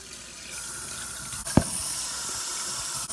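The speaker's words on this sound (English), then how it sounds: "I'm about to start filling it up with cold water. I gotta let it run so it can be like super cold." A tap runs cold water into a bucket, giving a steady, loud hiss of flowing water with a brief splash partway through and no voices.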